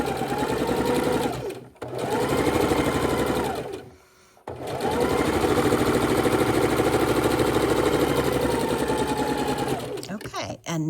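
Sewing machine stitching quilt fabric, a loud close rapid mechanical whir that runs steadily, cuts out twice in brief pauses and then resumes, with a voice talking faintly.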